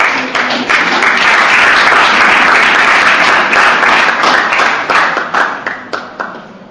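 A church congregation breaks into sustained applause, many hands clapping densely and loudly together for several seconds before thinning into scattered claps at the end.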